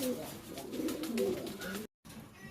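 Domestic pigeons cooing close by, low throaty coos repeating over the bird-trading setting with steady background noise, a short dropout near the end and a faint voice or two mixed in.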